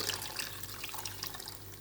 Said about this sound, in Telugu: కాస్త నేను వాటర్ వేసుకుంటా అని చెప్పాను కదండి కొంచెం వాటర్ పోసుకుంటున్నాండి